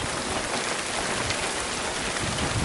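Steady rain falling on a Danish fishing trip in May, a dense continuous patter that holds evenly throughout with no voices.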